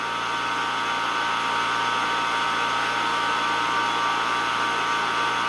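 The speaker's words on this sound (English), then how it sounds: "Quite a change in character from some of the lower pressures. Much wilder arc in this ball." Wild electrical arc discharging through xenon gas inside a glass ball at about 17.5 inches of vacuum, a steady loud broadband buzzing hiss with a low hum underneath, continuous and unbroken throughout.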